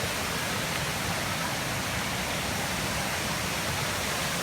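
Tat Ton waterfall in early January, a steady, even roar of rushing water that fills the scene without pause and has no voices over it.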